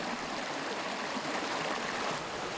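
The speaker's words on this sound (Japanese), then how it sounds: "こちら滝流れてますね" A mountain stream pours over a waterfall in a cool river gorge in Kitaibaraki, Ibaraki, Japan, making a steady, dense, close rush of water with no voices over it.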